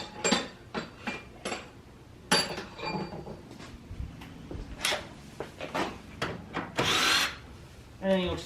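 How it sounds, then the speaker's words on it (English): Power drill backing out headlight bolts under the hood during a headlight installation, with short separate bursts of whirring and clinks of hardware, fairly close, between quieter gaps. "And then you'll just take your bolts out."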